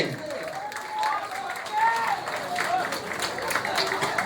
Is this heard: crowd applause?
yes